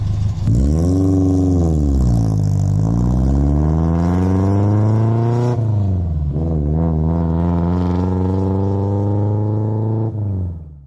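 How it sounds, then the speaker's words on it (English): An old Toyota car engine revs hard and loud close by, its pitch climbing, dipping and rising again in sustained swells before cutting off abruptly near the end. "This is my crap car."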